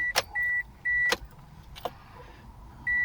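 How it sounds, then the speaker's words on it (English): A car's ignition is switched on with a battery connected as a memory saver, followed by several short electronic chimes and brief whirring bursts from the cabin electronics, with quiet gaps between them. "first I'm gonna put the ignition on the car"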